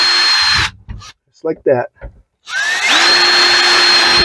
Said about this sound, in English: The key here is just drill the plastic, okay?